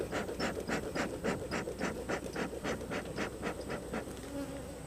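A honeybee buzzes close and loud while latched onto a glove during a top-bar hive inspection, its buzz rising and falling in a steady pulsing rhythm with no talk.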